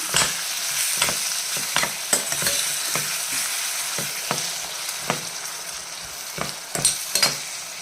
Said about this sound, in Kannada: ಉಪ್ಪು ಹಾಕಿದ ಕೂಡಲೇ ಇದನ್ನು ಮಿಕ್ಸ್ ಮಾಡ್ಕೊಂಡ್ಬಿಡೋಣ.